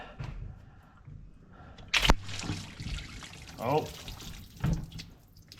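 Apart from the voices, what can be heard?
antifreeze draining from a Dodge Durango into a tote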